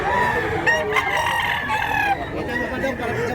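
Rooster crowing amid the busy clamor of a chicken market in Mantalungon, Barili, with overlapping calls from nearby fowl and faint voices in the background.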